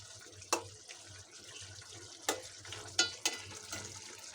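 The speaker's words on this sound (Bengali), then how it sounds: "এই যে আমার মাংস রান্না হচ্ছে।" Desi chicken meat being bhuna-cooked in a pan with a faint, soft sizzle underneath, broken by several sharp scraping clinks of a spatula stirring against the pan, fairly quiet and close.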